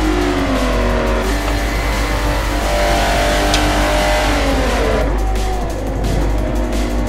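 A Jaguar race car engine in Forza Motorsport 4 roars loudly and continuously, its pitch climbing and falling through gear changes as it accelerates on track, with no talking.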